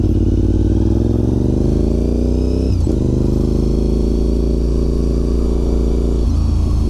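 A Honda RC51 motorcycle engine chugs along at low throttle in fourth gear, a loud, steady, close-up low rumble that dips briefly near the middle and again toward the end.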